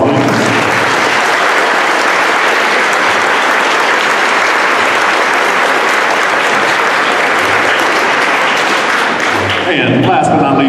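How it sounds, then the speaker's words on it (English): Sustained audience applause at a school spring band concert, dense and loud, filling the whole stretch before thinning near the end. "Can we give them a round of applause, please?"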